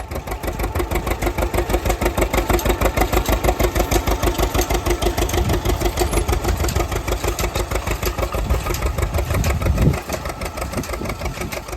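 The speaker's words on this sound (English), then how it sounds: "This 1937 John Deere unstyled A tractor on steel wheels is one of the oldest machines" A 1937 John Deere unstyled A tractor on steel wheels: a steady, loud, low engine chugs in a fast, even rhythmic beat, running continuously up close with no voices.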